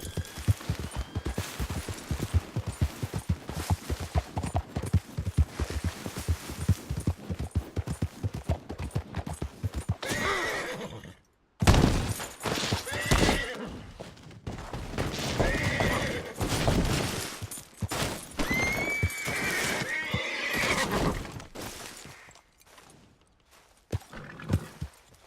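Horse hooves clip-clopping and galloping in Red Dead Redemption 2, with loud whinnies and neighs breaking through partway, all set against game sounds.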